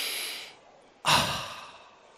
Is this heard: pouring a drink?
no